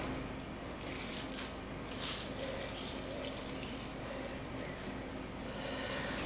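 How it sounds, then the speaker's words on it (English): Water squeezed hard out of grated potatoes wrapped in a kitchen cloth, a steady wet hiss and trickle of liquid running out, fairly faint and continuous throughout with no talking. "wrap it in, and squeeze the water out as hard as I can"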